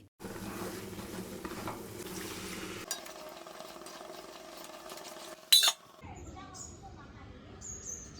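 Spoon stirring masala paste in a cooking pan, soft scraping and light sizzling heard under a voice, with a sharp clink near the end.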